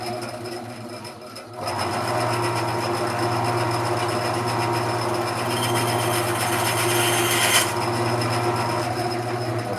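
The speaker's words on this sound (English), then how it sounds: "Bandsaw." A bandsaw cutting through a block of carving wood starts up after a brief quiet moment and then runs as a steady, loud, close hum with a rasping cut that holds for the rest of the stretch, with no talk over it.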